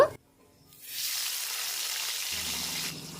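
Diced tomatoes and a pinch of five-spice (panch phoron) hit hot oil in a wok, setting off a loud, steady sizzle. It swells after a brief quiet start, holds throughout, and no one talks.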